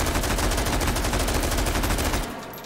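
An AR-18P rifle in the VR shooter H3VR firing on full auto, a dense, loud, unbroken rattle of rapid shots that cuts off abruptly near the end, with no talk.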